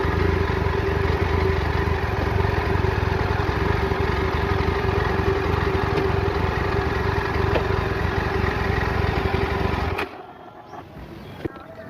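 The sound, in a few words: Yezdi Adventure motorcycle engine running in gear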